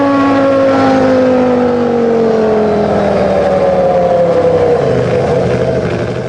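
A Williams FW15C Formula 1 car with a continuously variable transmission screams loud and close, its high engine note holding steady and sliding smoothly in pitch without any stepped gear changes.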